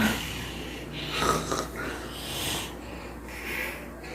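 A child imitates snoring with their voice, giving a few close, breathy snorts and wheezy inhales with soft pauses between them.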